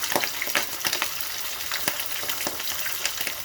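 Fish pieces, starting with the head, crackle and spit as they fry in hot oil, a steady broadband sizzle broken by sharp pops and spatters, close and fairly loud with no voices.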